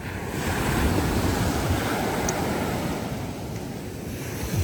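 Ocean surf washing onto a beach in the Philippines, a steady rushing roar of breaking waves with wind buffeting the microphone, loud and continuous with no voices.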